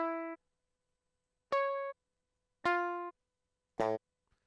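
Four separate synth-guitar notes from the Odin 2 synth driven by MIDI guitar, each a clean, harmonically rich tone lasting under half a second with long silent gaps between, played alone with no voice.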